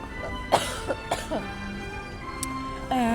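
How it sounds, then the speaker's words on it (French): A few short, sharp coughs in a row, fairly close, with a brief pause between bursts. "Attendez, il faut que je tousse."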